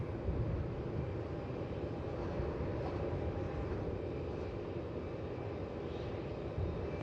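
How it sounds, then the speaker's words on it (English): A Bamboo Airways Boeing 787 Dreamliner taking off from runway 16 at Melbourne Airport, a steady low engine roar heard from a distance that holds constant throughout, with no talk. "that Bamboo, which we're waiting to see take off, a 78 Dreamliner off to Ho Chi Minh"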